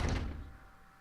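A door in the Resident Evil 0 video game opens with a single heavy thud that fades into a low, dark rumble, fairly loud and heard on its own.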